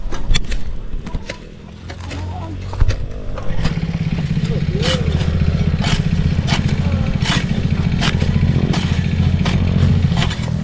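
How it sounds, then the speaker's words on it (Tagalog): A grass cutter's small engine runs steadily and loudly outdoors in a field, its low buzzing drone continuous throughout, rising after a brief dip near the start, with people talking over it. "Ang problema dyan sa grass cutter"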